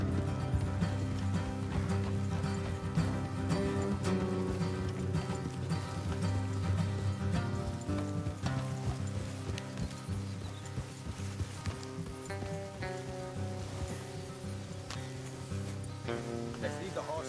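Horses clip-clop steadily on a road beneath a continuous music score in Red Dead Redemption 2, with riders heading off the road, the hoofbeats mid-level and partly masked by the music.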